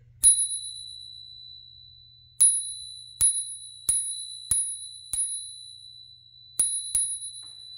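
A Rockbros bicycle bell, a Spurcycle clone, rings clear and bright with sharp metallic dings: one strike, then a run of six more in uneven succession, each tone ringing out and decaying, alone and close.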